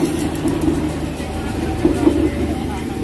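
The Arjonegoro passenger train rumbles past a trackside spot near Surabaya at sunset: a steady, loud roll of wheels and engine drone with faint rail clatter, while people talk nearby.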